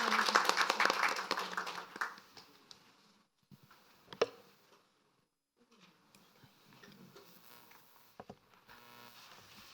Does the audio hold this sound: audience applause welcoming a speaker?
yes